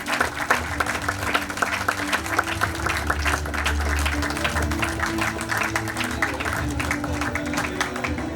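Audience applause for a lifetime achievement award recipient at a cricket felicitation ceremony, steady dense clapping sustained throughout with crowd murmur beneath and a faint low hum.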